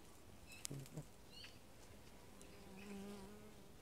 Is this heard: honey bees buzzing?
yes